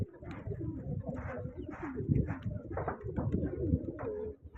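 Pigeons coo steadily and close by in a repeated, overlapping rhythm, with soft rustling beneath and no talk.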